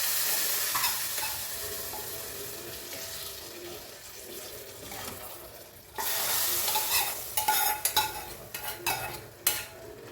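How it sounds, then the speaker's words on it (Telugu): Tempering with turmeric and curry leaves hitting a pan of curry, a steady close sizzle with stirring and scraping that turns louder and choppier in the second half. "ఇప్పుడు ఈ కూరలో తాలింపు వేసేసుకుందాం."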